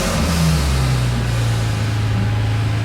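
A low-mounted twin turbo Subaru Liberty engine revs hard and loud up close, then drops to a falling, throaty drone as the revs settle.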